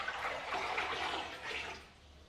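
Cold boiled water pours steadily into a basin in a home kitchen, a continuous close, full splashing rush lasting about two seconds with no talk over it.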